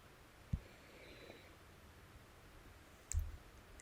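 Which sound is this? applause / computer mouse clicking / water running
computer mouse clicking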